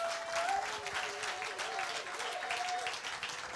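A church congregation applauds steadily and densely throughout, a continuous wash of clapping with a faint voice or note rising briefly over it.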